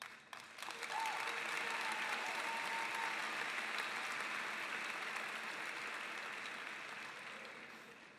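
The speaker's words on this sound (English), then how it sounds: "with a round of applause" A crowd at a high school graduation ceremony breaks into a sustained round of applause, dense clapping that swells quickly and holds steady before slowly fading out.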